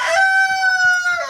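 A Buff Orpington rooster crows once, loud and close, a single sustained call with a rising start and a drawn-out falling finish.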